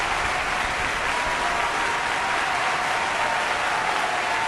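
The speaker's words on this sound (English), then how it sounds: "A little loud with the applause there." Audience applause fills the space as a dense, even wash of clapping from a crowd, loud and continuous throughout with no pauses or voices.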